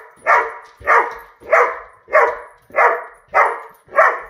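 An English Setter whines for a treat in seven evenly spaced, close, loud drawn-out cries, each rising sharply and fading, roughly every 0.6 seconds.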